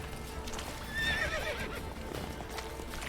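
Roach, a horse in The Witcher 3, labors through a bog with a loud whinny and a muffled tumble of hoofbeats over a dense game soundscape.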